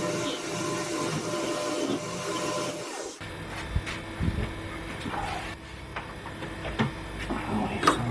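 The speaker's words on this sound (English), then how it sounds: "I'll machine the back end of the gear out so it'll run over the outside of this" A homemade lathe machines the back end of a gear, first with a steady whirring motor tone, then a quieter run broken by scattered scraping and cutting ticks, with no talk.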